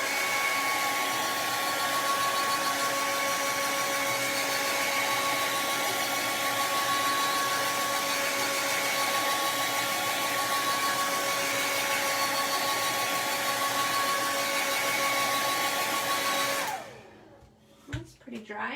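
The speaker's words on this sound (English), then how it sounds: "I'm gonna hit this with the blow dryer." A blow dryer blasts steadily, close and loud, drying a craft project for about seventeen seconds before it switches off and winds down, followed by a few handling knocks.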